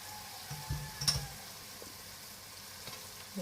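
Ground cumin, red chili and salt frying in a pan for a squash curry, a faint, soft sizzle with a few light clicks of stirring, heard alone.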